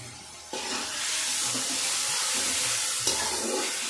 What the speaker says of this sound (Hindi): और अब इन्हें फ्राई कर लेंगे।